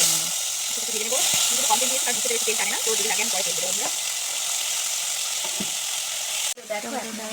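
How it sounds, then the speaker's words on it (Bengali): Fish fries in hot oil in a wok with a steady, bright sizzle and hiss that runs throughout, while a person talks over it and a brief clatter sounds near the end. "মাছ ভেজে নিচ্ছি"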